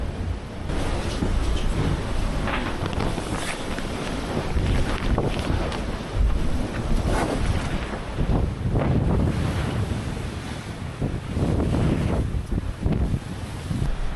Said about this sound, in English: And then just as I was thinking that, bam! In comes a gust.